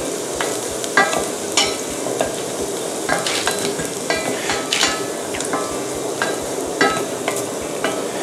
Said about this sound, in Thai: ผมจะลงกระเทียมครับผมเจียวกระเทียมก่อน